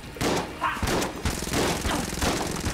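The Huntsman gun firing in Enter the Gungeon: loud clustered shot bursts with thudding impacts, coming in repeated waves a fraction of a second apart, with no talking.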